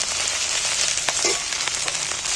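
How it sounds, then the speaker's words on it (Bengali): Ginger and garlic frying in hot oil, a loud close continuous hiss and crackle with small pops and faint stirring scrapes, no voices. "আমি এখানে আদা রসুন তুলে দিচ্ছি রসুনটা ভেজে নিচ্ছি"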